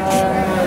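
A milking cow at the Sangola cattle market in Maharashtra gives a brief, loud, steady low moo, close by, with market background noise behind it.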